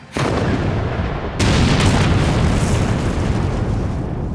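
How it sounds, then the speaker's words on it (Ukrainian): A loud, booming artillery volley from all guns in an animated airship battle, followed by a second heavy burst, leaving a sustained rumbling roar that lingers to the end. "Залп із усіх гармат."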